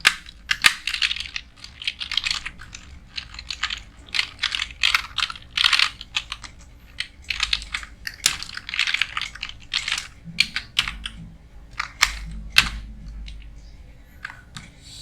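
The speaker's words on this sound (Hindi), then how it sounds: "आप लोगों को MS वर्ड पे मैं टाइप करके दिखाता हूँ।" Rapid clicking keystrokes on a computer keyboard while text is typed into MS Word, close and steady in bursts with short pauses, no talking.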